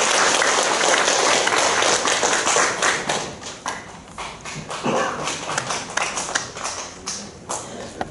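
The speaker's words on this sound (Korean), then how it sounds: "크게 우리 축하의 박수 한번 해주시면 감사하겠습니다." A congregation at a Korean Monday worship service for retired pastors, in the main auditorium of the Korea Christian Federation Building, breaks into loud, dense clapping, then thins to scattered claps that trail away.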